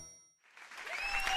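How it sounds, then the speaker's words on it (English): A crowd of cartoon animals cheering for the fire trucks Big Red and Lil Red, a bright cheer that swells in from near silence and grows louder and fuller. "All of the animals cheer for the fire trucks"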